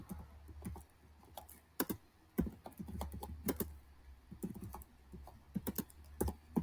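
Fast, uneven typing on a computer keyboard while text is entered into an online form, with clustered key clicks and short pauses over a low hum and no talking.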